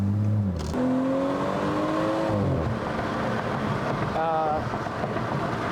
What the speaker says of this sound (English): To give you guys kind of an idea of what it sounds like with an exhaust.